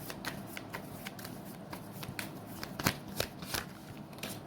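Tarot cards being shuffled by hand in a quiet room, with a run of soft riffling flicks and a few sharper snaps, close and fairly faint, with no talking.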